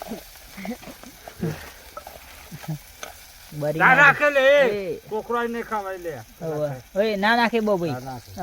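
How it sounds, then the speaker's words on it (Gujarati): Onions and tomatoes tempering in hot oil out in a farm field give a steady sizzle and stirring scrape that runs beneath loud, continuous conversation between several people. "હવે જો દલભાઈ વઘારતા ડુંગળી અને ટામેટાનું"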